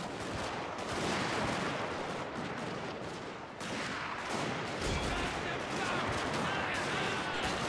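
Musket volleys crackle in the Shogun 2 Fall of the Samurai video game, dense rolling gunfire with booming reports over a noisy battlefield din, a voice speaking over the shooting.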